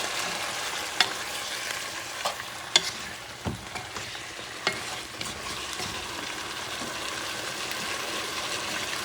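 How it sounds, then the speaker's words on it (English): Short rib beef stew with sofrito fries and sizzles in a pot while a spoon stirs it, giving a steady hiss broken by several sharp scrapes and clinks, close and with no talking. "Mix things around."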